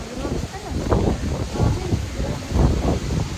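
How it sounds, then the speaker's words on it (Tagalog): Wind buffets the microphone outdoors in rumbling low gusts that swell and fade over a few seconds. "Hangin dito sa labas, guys."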